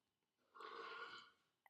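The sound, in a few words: burping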